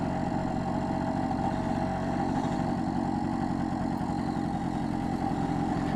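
A BSA Bantam D3 motorcycle engine runs steadily through a ride, a continuous mid-pitched hum with a constant, even loudness and no voices over it.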